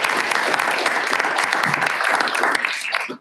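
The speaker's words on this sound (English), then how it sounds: "I want to, again, give you all a round of applause and thank you for doing it." Audience applause at a housing policy forum, loud sustained clapping from many hands filling the room, which then drops away sharply at the end.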